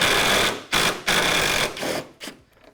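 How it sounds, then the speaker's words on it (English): A power driver or impact tool backs bolts out of a Dodge Charger headlight enclosure, several close, loud bursts of whirring with short gaps between them. "So we're gonna start taking bolts off to get this headlight enclosure out."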